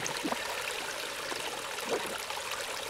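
A water spring in the survival video game Die Young flows with a continuous soft rushing trickle, steady and fairly quiet, heard alone without talk.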